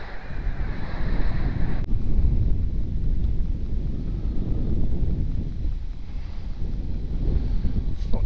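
Strong wind roars across an outdoor microphone while a foam RC plane flies, a constant loud rumbling buffet that fills the whole stretch with only faint higher noise above it.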